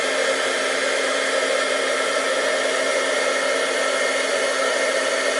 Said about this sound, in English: Make sure you keep your fingers out of the way of that heat stream.